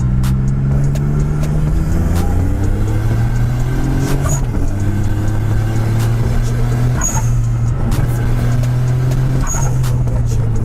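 A Suzuki Alto K10 with a turbocharged small engine pulls hard through the gears, its buzzy engine note climbing, dropping at a shift, then rising again, loud and close from inside the car, with brief chirps from the turbo.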